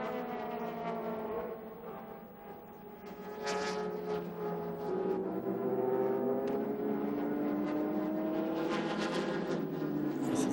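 Super GT race cars at Twin Ring Motegi during a 2007 300 km race, engines droning and shifting in a steady, continuous roar with pitch rising and falling as cars run past, loud throughout with no talk.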